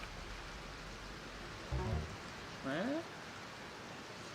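Steady rain fills a video game scene as a soft, continuous hiss of falling water, with a brief spoken word cutting in over it.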